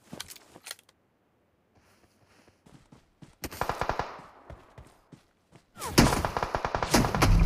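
Gunfire in the mobile battle royale game BGMI (Battlegrounds Mobile India) comes in sparse single shots at first, then dense rapid bursts build toward a loud sustained volley near the end.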